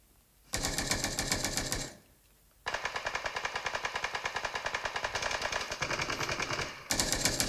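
Automatic gunfire in the battle royale game PUBG: a dense rapid burst, a short pause, then a long sustained stream of shots and a final burst starting near the end, loud and close with no voices.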